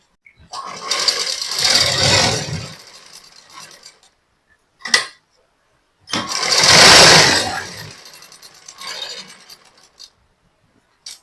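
Sewing machine stitching blouse fabric, two whirring mechanical runs of a few seconds each separated by a brief clack and pauses, close and fairly loud.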